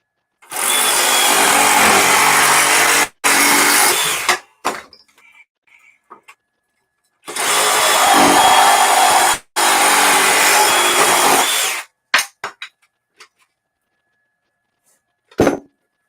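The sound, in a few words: DeWalt power tool cutting during live tool test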